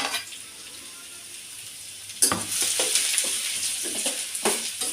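Chili fries in a pan and is stirred, a soft sizzle that turns louder and crackly partway through, with scraping stir strokes and faint talk beneath.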